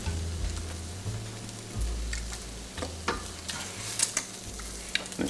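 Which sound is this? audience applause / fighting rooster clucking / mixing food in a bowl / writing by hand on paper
mixing food in a bowl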